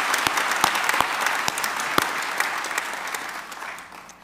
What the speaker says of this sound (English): let's give all of our participants another round of applause for the